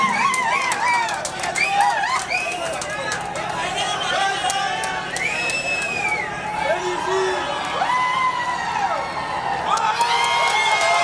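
Crowd cheering and whooping at the final day of a cricket league match, with excited shouts and voices rising over a steady babble of noise throughout.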